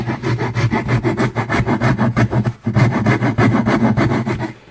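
A hand rasp or file works the edge of a wooden guitar body being shaped with hand tools, giving loud, close, rhythmic back-and-forth strokes with a brief pause midway.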